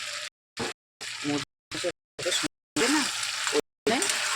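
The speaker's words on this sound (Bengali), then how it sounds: "এবার একটু নাড়াচাড়া দিয়ে নিই দেখুন এবার আমি আলু দিয়ে দিলাম" Chicken curry with potatoes sizzles in a frying pan as it is stirred, giving a steady hiss that comes in choppy, interrupted bursts, with a voice talking over it.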